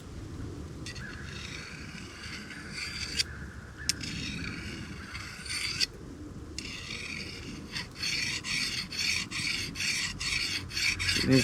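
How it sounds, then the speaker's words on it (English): A sharpening rod scraping along a knife blade in steady, close rasping strokes, with brief pauses between passes and a faster run of short, repeated strokes near the end. "what I'm doing is making sure there's no space in between the sharpening rod and the blade"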